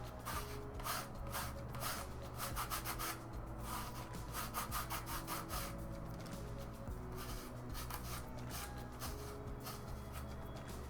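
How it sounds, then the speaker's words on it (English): Coarse 60 grit sandpaper rubs back and forth across a surface in a quiet room, a series of faint rhythmic scratchy strokes that continue steadily with short breaks. "So 60 grit sandpaper removes stuff very quickly."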